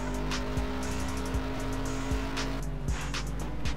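A race car laps the Nogaro circuit in the GTR2 racing game, its engine droning loudly and steadily throughout, with gear shifts and pitch changes marking the acceleration.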